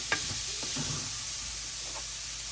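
Vegetables with brown sugar stirred in a hot pan, giving a steady, close sizzle with a few short scraping knocks of the spoon, no talking.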